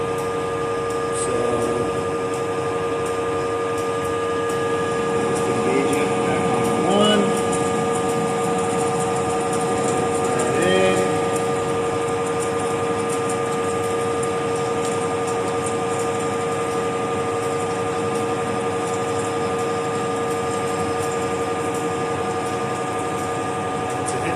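A lathe cuts threads on a hydraulic cylinder rod replacement, giving a steady machine hum with tonal whine and faint intermittent clicks, constant and fairly loud throughout, with no talk.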